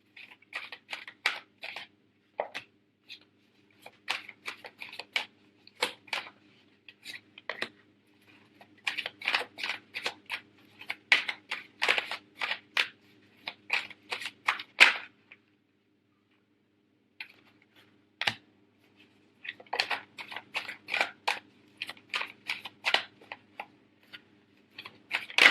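Tarot cards are shuffled and handled in irregular bursts of crisp, close ticking and flicking sounds, separated by brief pauses, with a faint steady hum beneath.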